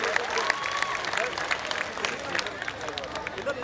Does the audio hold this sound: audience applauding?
yes